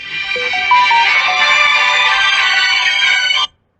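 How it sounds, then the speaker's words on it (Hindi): A phone ringtone plays loudly for a few seconds, a bright electronic melody that cuts off abruptly. "ये बीच में फोन आ गया,"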